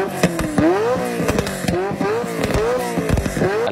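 A supercar engine, a Lamborghini or Ferrari, revs loudly and up close in a garage, with repeated rising and falling pulls and sharp crackles between them.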